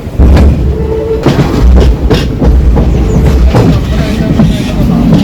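A train leaving Kannur railway station rumbles close by, its wheels clattering in irregular knocks and thumps as it crosses rail switches.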